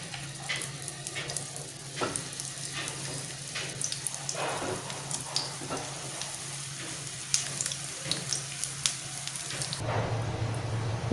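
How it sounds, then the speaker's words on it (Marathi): Rodage flatbread dough balls half-frying in oil in a pan, giving a steady close sizzle dotted with sharp crackles and pops that swell briefly near the end, with no voices. "उरलेले रोडगे आता आपण पॅनमध्ये टाकणार आहोत त्यालासुद्धा हाफ फ्राय करून घेणार आहोत"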